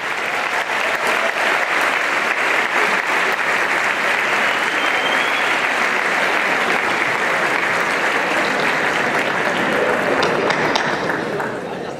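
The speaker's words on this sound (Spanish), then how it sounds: "Vamos a darle un fuerte aplauso al creador de todo esto" At Tele Urban's fifth-anniversary company event, a large audience claps loudly and continuously for about twelve seconds, a dense, even wash of applause that fades slightly at the end.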